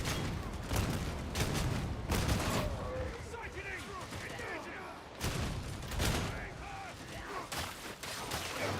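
Bolter gunfire in a Warhammer 40k shooter: bursts of heavy rounds come in clustered volleys, with mechanical clatter and other battle noise between shots, all fairly distant and moderately loud.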